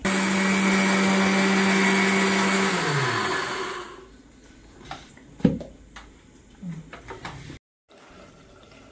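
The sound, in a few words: grinding roasted rice in a mixer grinder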